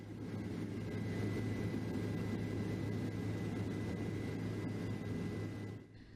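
Steady roar of a water-bombing helicopter flying over a burning peatland, a continuous heavy engine and rotor drone with a low hum, loud and constant before cutting off at the end.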